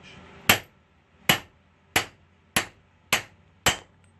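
Six sharp metallic hammer strikes land at an even pace, close and distinct, each ringing briefly as a socket drives a sealed wheel bearing into place on a Benelli Buzzer.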